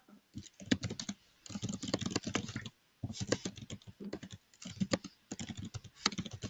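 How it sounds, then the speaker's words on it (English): Rapid clattering keystrokes on a computer keyboard in bursts, with brief pauses between runs of typing; fairly close and moderately loud. "we can hear you typing now"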